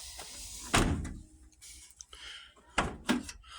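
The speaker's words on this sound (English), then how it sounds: "Now we're going to try the door again." Rear door of a Chevy truck opened and shut after a handle repair, with a couple of solid thunks and latch clicks, close and fairly quiet with pauses between.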